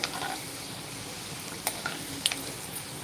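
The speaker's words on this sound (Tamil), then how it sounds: "இது வந்து கொஞ்சம் நேரம் நல்லா வதக்கி விடணும்" Ground onion masala sautéing in a pan, a soft steady sizzle with a few scattered pops and stirring clicks, moderately close with no talking.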